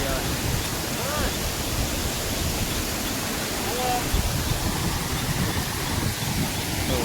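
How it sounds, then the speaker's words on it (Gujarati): Floodwater after heavy rain rushes over a village bridge in a steady, dense roar close by, with excited voices talking over it throughout. "આખું પુલ છલકાઈ ગયો છે"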